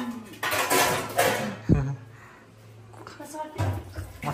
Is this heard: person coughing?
no